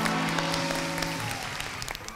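Steady applause for game show players, with a faint tonal hum underneath, lasting about two seconds.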